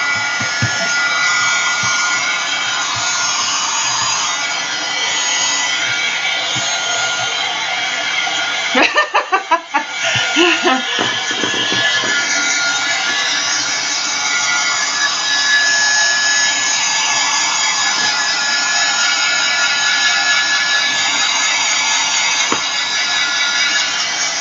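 A hair dryer blows steadily on crackle texture paste in an art journal, a loud continuous broadband whoosh filling the whole stretch, briefly interrupted around the middle by a few handling knocks and clatter before the airflow resumes.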